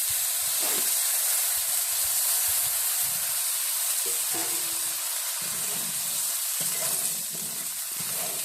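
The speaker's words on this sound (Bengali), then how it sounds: "এখন কষাইয়ে পানিটা দিয়ে দেবো।" Water goes into a sizzling curry in a pan, setting off a loud, steady steamy hiss with low bubbling pops underneath.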